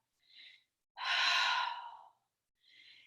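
Three deep breaths during a yoga wheel pose: a soft inhale, then a long, loud, airy sigh-like exhale, then another gentle breath, close and clear with no talking.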